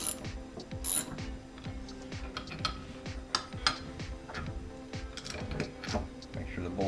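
Ratchet clicking steadily as oil pump bolts are snugged down on a 440 engine, rapid close pawl ticks repeating with small metallic taps.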